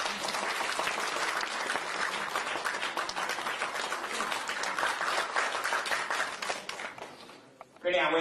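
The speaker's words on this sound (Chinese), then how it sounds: "掌声。" An audience at a Suzhou pingtan performance in a Shanghai storytelling hall breaks into dense, sustained applause for several seconds, tapering off before a voice speaks at the end.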